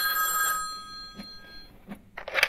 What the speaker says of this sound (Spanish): No quiero ni coger el teléfono.